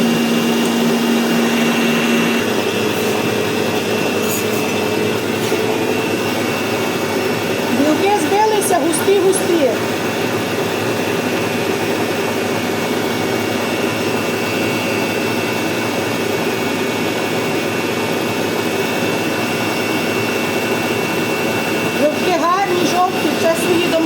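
An electric mixer whips cake batter with a continuous loud droning whir that runs steadily throughout, close by, while someone talks over it.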